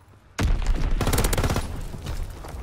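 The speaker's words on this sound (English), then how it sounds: "That guy shot at me." Gunfire in Call of Duty WW2: a sudden loud volley of rapid, overlapping shots that rattles on for a couple of seconds before easing slightly.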